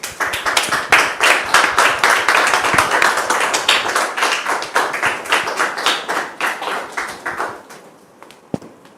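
A studio audience on a French-language talk show applauds the arriving guests with loud, close, rhythmic clapping that starts strong and tapers off toward the end, with no talk over it.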